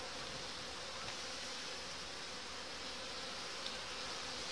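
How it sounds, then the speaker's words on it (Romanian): Honey bees buzz steadily inside a hive of a queenless colony, a dense, continuous hum that holds at an even, moderate level throughout with no voices. "De fapt se și vede de cantitatea de albine care se află în stup."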